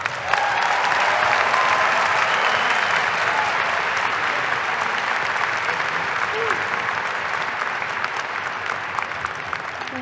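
Sustained audience applause at a university summer/fall commencement ceremony, a dense, even wash of clapping from a large crowd lasting throughout, loud and steady with only slight fading toward the end.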